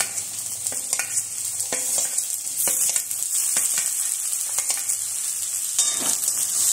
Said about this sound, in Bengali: এই মতো অবস্থায় আমি গাজর কুচি, আলু কুচি দিয়ে দিচ্ছি।